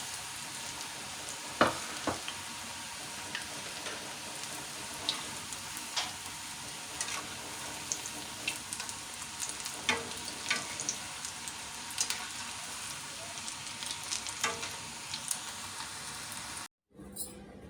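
Crispy, tangy besan pakoras fry in hot oil with a steady, dense crackling sizzle and scattered sharper pops, heard alone with no talking, before a brief cutoff near the end.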